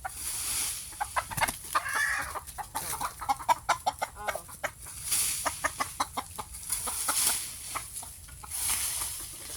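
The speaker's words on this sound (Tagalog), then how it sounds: "Habulin ang mga manok." Chickens cluck in quick, uneven bursts against a faint outdoor background, fairly distant and soft.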